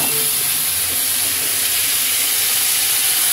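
Greens sizzling in a hot pan: a steady, loud hiss holds evenly throughout with no pauses, no talk and no other sounds.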